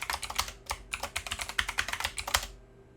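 Someone types a new root password on a computer keyboard, giving a quick, close, steady patter of key clicks with a short pause before the typing trails off, and no talk over it.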